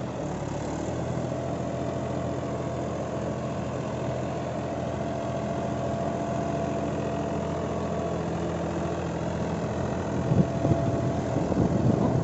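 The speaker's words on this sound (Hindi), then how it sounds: "तो भाई, अब ट्रैक्टर स्टार्ट हो चुका है" A 63 HP tractor engine idles steadily with a low, continuous rumble throughout, growing slightly rougher near the end.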